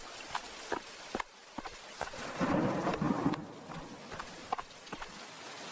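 Thunderstorm with heavy unseasonal rain: a steady rain wash with a swelling rumble of thunder in the middle, broken by sharp hoof-like knocks and clatters throughout, fairly faint and with no talking.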